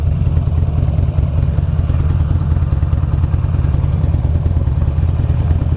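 A 2009 Buell Lightning Long XB12SS motorcycle engine idling, a loud, close, rough low-pitched rumble with an uneven, lumpy pulse that stays steady throughout.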